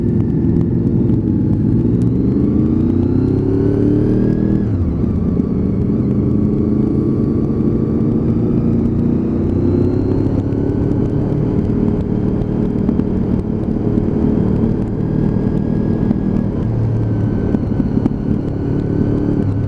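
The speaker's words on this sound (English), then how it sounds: "growl from that VFR engine." Honda VFR motorcycle engine growling steadily and loudly at close range, a continuous low rumble with shifting pitch as revs rise and fall, without any talking.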